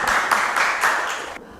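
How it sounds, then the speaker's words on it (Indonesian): Classroom students applauding a classmate, a short burst of clapping in several surging waves that fades and stops abruptly near the end. "Beri tepuk tangan untuk Nur Iza"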